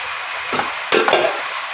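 Chicken drops into hot oil in a pan and bursts into a loud sizzle, crackling steadily close by after a brief stir.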